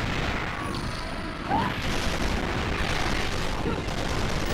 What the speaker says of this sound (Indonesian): tiba-tiba langsung ada tembakan dari bagian atas kayak gitu